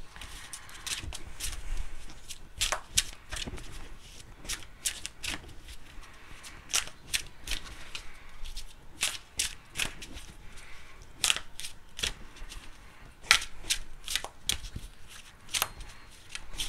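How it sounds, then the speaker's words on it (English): Oracle cards being shuffled by hand, a rapid series of crisp papery riffles and soft slaps repeating irregularly, close and fairly quiet, with no talking. "I'm going to give these a good shuffle real quick"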